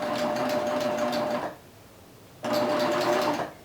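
A sewing machine stitches elastic onto knit baby-dress bodice fabric, with two steady, loud whirring runs close by and a short pause between them, and no talking.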